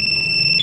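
A light blue Yamaha Fazzio scooter's anti-theft alarm blares a steady, piercing electronic tone, loud and close, holding continuously through the brief moment with no talking over it.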